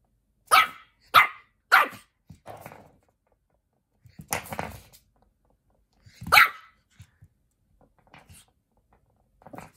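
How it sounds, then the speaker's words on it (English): A dog barks in sharp close bursts, three quick barks, then a growly cluster, then another loud bark, with quieter rustles in the pauses. "Marshall, stop barking, please."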